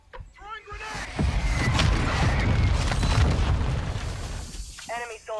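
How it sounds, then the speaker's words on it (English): A grenade is thrown and detonates in the video game Apex Legends, a loud booming blast that swells and rumbles for several seconds, framed by brief bursts of game voice chatter before and after. "Tossing smoke grenade. Throwing grenade."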